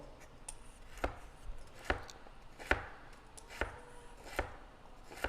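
A knife chops cucumber on a board for California rolls, seven crisp, evenly spaced strikes about once a second with light kitchen background between them.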